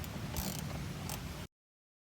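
A ratchet wrench clicks rapidly up close while backing out 10 mm screws from a GM truck door handle, a short busy mechanical rattle with a couple of brighter squeaks before cutting off abruptly.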